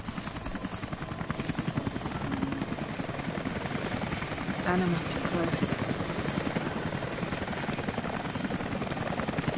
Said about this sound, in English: There's a helicopter nearby.